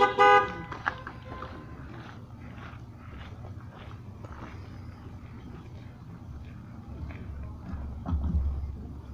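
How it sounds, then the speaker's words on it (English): A burst of car horns honking loudly at the start during an outdoor candidates' event at a church, followed by quieter scattered noises and faint rustling. "Give a honk of a horn."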